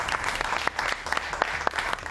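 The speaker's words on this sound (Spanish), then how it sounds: "Así, con aplausos," Steady audience applause for comedian Manolo Vieira as he announces his final tour, a dense continuous patter of many hands with a few sharper nearby claps standing out.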